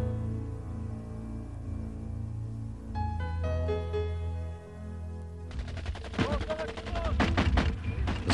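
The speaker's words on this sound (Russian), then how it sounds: "Звуки выстрелов возвращают меня к реальности." Rapid gunfire erupts in the battle for Jerusalem at Givat HaTachmoshet: dense, fast bursts of loud cracking shots take over in the last few seconds after a stretch of steady tonal music.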